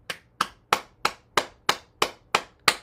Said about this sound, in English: Let's clap our hands to stimulate our heart.